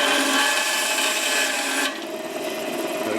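A Vevor 10-inch band saw slices steadily through a thick piece of plastic, its loud, continuous rasping cut dropping abruptly to a lighter running whir as the blade clears the material partway through.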